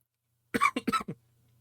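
A short burst of three or four harsh coughs in quick succession, close to the mic and isolated against near silence, from someone wishing for cough drops during a hobby livestream.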